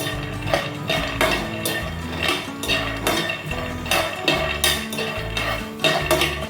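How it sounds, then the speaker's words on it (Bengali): Peanuts dry-roasting in a pan without oil, stirred with a utensil that scrapes and clatters in a regular rhythm of loud, close strokes, with no talk. "বাদামটাকে শুকনো খোলায় প্রথমে ভেজে নিচ্ছি"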